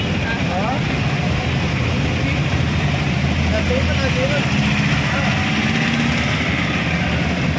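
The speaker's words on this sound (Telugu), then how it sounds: "ట్రైన్ ఆగింది బెజ్జి మీద, అదిగో చూడండి" A stopped train idles on a bridge near Rajahmundry, its engine giving a low, steady rumble under a constant wash of background noise, with voices talking over it.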